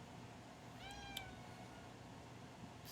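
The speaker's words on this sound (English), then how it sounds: "So that's my cat screaming at me for attention." A house cat meows for attention, one drawn-out rising and falling call followed by a brief second chirp, heard at moderate distance over a quiet background hum.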